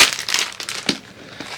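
A plastic bag holding a Steam Deck case crinkles and rustles in a few close, crisp bursts during an unboxing, then settles quieter.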